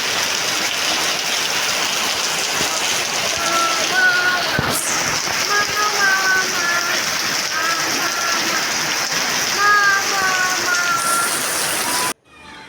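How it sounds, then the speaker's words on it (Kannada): Heavy rain pours down steadily, a dense continuous hiss with scattered drips and splashes, loud and unbroken throughout before cutting off abruptly near the end. "ನೀವೇ ನೋಡಿ ಹೇಗೆ ಬರ್ತಾ ಇದೆ ಮಳೆ ಅಂತ"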